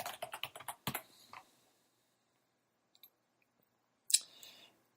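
Rapid keyboard typing on a computer, a quick burst of close, crisp keystrokes entering a layer name, followed by near silence with a couple of isolated clicks and a final louder click.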